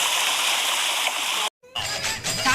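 Water rushes at Marottichal waterfall stream in Kerala, a constant loud hiss and splash that cuts out for a moment and then returns with a lower gurgling.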